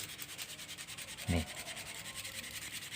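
A hand rubs and polishes a thin bamboo strip in continuous rhythmic scraping strokes, close and steady, with one dull knock partway through.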